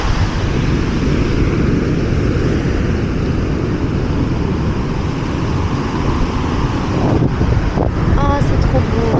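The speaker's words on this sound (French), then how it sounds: "Et le vent là, ça défonce." Strong wind roars constantly at a cold beach beside icy water, buffeting the microphone loudly throughout, with a voice faintly audible in places.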